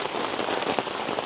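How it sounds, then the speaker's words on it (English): Steady, dense rain falls outdoors in a garden, a constant hiss of drops on surfaces with no pauses and no voices. "Oh, the rain's getting worse"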